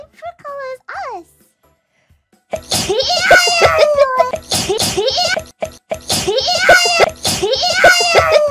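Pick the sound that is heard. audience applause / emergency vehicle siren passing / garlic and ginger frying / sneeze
sneeze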